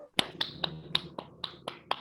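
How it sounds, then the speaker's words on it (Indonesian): Children in a classroom clap in sharp, separate beats, about nine evenly spaced claps, close and fairly quiet. "Tepuk tangan buat Jeffrey."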